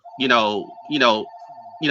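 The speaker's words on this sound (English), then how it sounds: "Sorry about that phone if y'all can hear it." A telephone rings in repeated electronic bursts, two full rings and the start of a third, loud and close under a steady tone.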